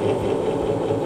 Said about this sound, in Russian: Нашему двигателю намного легче работать, звук изменился, характерный звук,